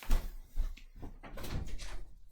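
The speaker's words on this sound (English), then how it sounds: "Hold on, let me open up the door for him." A household door is handled and opened, giving a few soft knocks and thumps close by, with faint shuffling between them.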